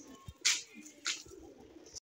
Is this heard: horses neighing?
no